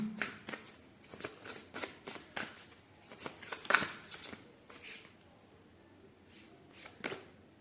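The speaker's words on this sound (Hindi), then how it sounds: "पहले हम पर्सन ए के लिए ओरेकल कार्ड निकालेंगे, फिर पर्सन बी के लिए ओरेकल कार्ड निकालेंगे।" Oracle cards being shuffled and drawn by hand, a run of crisp, close riffling flicks and slaps in uneven bursts, then a few softer card sounds near the end.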